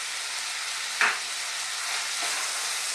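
Malunggay leaves being stirred into sautéed papaya in a hot pan, a steady sizzle with one brief scrape of the utensil, close and alone.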